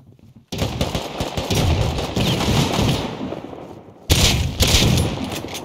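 Heavy automatic gunfire in a gun game mode of the Rust video game roars in loud sustained bursts, with a brief pause before another intense volley.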